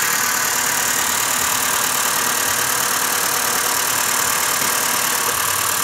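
A 2015 Honda Fit EX engine idles with the hood open, a steady, even mechanical hum and hiss heard up close without pause.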